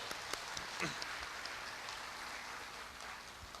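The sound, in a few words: applause from the ceremony audience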